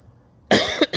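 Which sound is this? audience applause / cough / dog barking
cough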